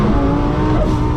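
A 1600 hp twin-turbo Lamborghini Huracan Performante accelerates hard, its engine a loud, dense roar that holds steady and close for the full brief burst.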